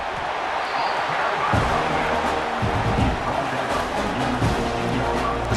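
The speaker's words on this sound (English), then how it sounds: "listen to this crowd noise. This stadium is vibrating." A packed college football stadium in EA Sports College Football roars with dense, rumbling crowd noise and scattered thumps, loud and sustained throughout.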